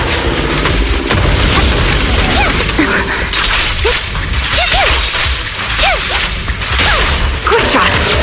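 Booming explosions and whooshing blasts from fire support in the video game Zenless Zone Zero fill a dense, loud wash of game action with chirping effects layered throughout.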